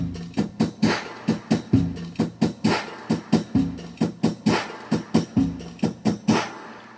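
A programmed drum rhythm from a Korg Pa80 arranger keyboard plays a steady repeating groove of kick and snare hits with low tonal accompaniment, clear and even, without any voice.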